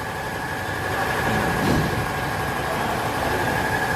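A 2011 Yamaha Mio Soul scooter idles at a Yamaha workshop, where it is in for a carburetor replacement. The engine gives a steady, close hum with a thin tonal whine throughout and swells slightly midway.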